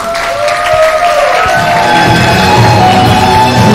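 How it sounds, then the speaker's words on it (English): Audience applause and cheering at a university undergraduate conference, a loud crowd roar with whoops and shouts rising as clapping builds, while steady tones sustain across the background. "please give a round of applause for Fania Salsabila!"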